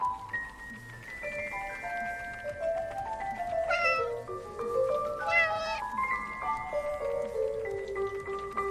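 A small female cat meows repeatedly nearby, a run of drawn-out, rising and falling cries, some stretching into a wavering caterwaul, over a faint background hiss.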